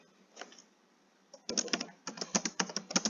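Keystrokes on a computer keyboard while writing a multi-line Python comment, a few light taps at first, then dense, rapid bursts of clicking close up, with no voices.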